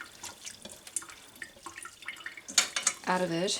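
A kitchen tap starts running while cottage cheese curds are broken up and rinsed; soft handling noises and a brief spoken phrase come first, then a steady splash of water begins near the end.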